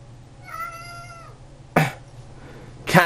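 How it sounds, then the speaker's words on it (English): A cat lets out a drawn-out meow early on, followed by two sharp, loud bursts that sound like coughs or sneezes, over a low steady electrical hum. "Cat is willing to have her 15 minutes of fame."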